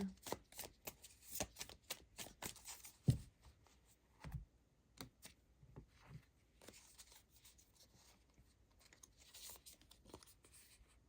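Oracle cards from a witch-themed deck being shuffled and drawn, giving quiet papery riffles, flicks and soft taps in irregular bursts, close but faint, with no talking.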